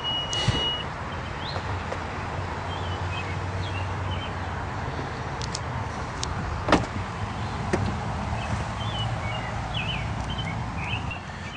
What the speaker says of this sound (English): The power liftgate closes with the push of a button.